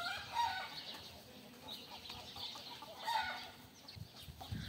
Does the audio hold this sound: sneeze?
no